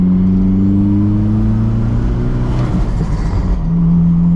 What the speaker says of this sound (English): We'll get a fair bit of road noise.